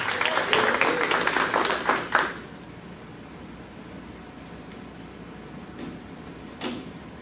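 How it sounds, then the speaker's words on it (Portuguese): A church congregation applauds in praise during a Sunday morning service, a dense burst of many hands clapping for about two seconds, then fading to quiet room tone with a few scattered claps. "Aplauda o Senhor, dá aquele glória a Deus."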